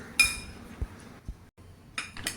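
Spoon clinking against a bowl while colocasia is mixed with gram flour and masala: a few light, close taps and scrapes, quiet and brief.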